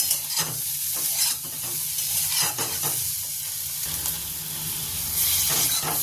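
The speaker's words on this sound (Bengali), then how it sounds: "হাই করে দিয়ে আমি এটা একটু ফ্রাই করে নিচ্ছি" Food frying with salt and turmeric in a pan over a high flame, a loud steady sizzle and hiss with stirring scrapes running throughout, no talk.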